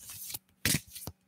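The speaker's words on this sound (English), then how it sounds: "These are harder cards to shuffle." Elongated oracle cards being shuffled by hand, close and quiet, in two or three quick riffling bursts separated by short pauses.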